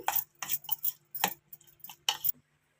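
A utensil clinks and scrapes against a bowl while potato and egg omelette batter is mixed with chili powder, a quick irregular series of close, bright taps that stops abruptly near the end.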